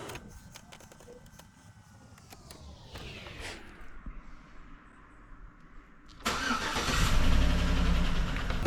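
A Chevy Avalanche engine cranks with a whirring starter for several seconds, then catches and fires into a louder, rough-sounding idle. The truck has just had a fresh oil fill and is suspected to have engine trouble.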